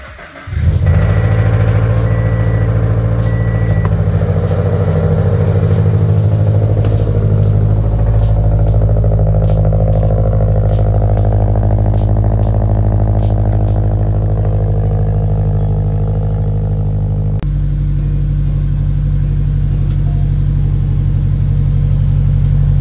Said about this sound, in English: the sound my car is making with the header exhaust